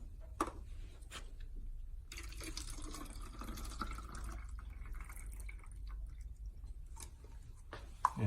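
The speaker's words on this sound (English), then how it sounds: "Now I get this water out to this cup." Tap water pours from a container into a cup in a thin, gurgling stream, quiet and close, with a few clicks and drips before and after.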